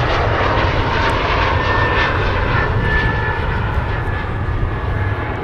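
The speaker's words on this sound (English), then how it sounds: "This two aircraft on the roll to Chambry." Aircraft engines roar steadily through a takeoff roll at Manchester Airport, a broad, sustained rumble heard from a distance and without speech.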